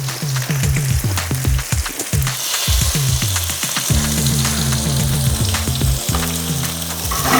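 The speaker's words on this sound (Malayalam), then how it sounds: "അപ്പോൾ നമുക്കിതെല്ലാം വറുക്കാൻ വയ്ക്കാം." Kerala-style masala-coated fish, four or five pieces, frying in coconut oil in a large pan: loud, dense, continuous close sizzle and crackle with a few stirring knocks, no talk.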